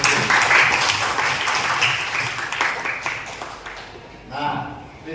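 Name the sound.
audience applause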